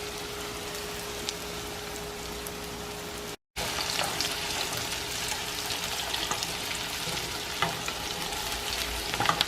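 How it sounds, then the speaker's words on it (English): Food sizzles and crackles steadily in a hot pan, a dense continuous frying hiss; a brief cut of silence interrupts it before the sizzling resumes as strongly, with a few small clicks as the food is turned. "let it cook on the pan for a few minutes, and then you'll flip it over and let the other side cook as well"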